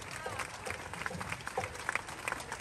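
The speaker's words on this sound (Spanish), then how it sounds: "Y fuerte el aplauso para el equipo de los Itzaes." Applause for the Itzaes team at a Pok Ta Pok Mayan ball game in Merida, Mexico: a faint, distant patter of crowd clapping with scattered sharper claps, mixed with voices in the background.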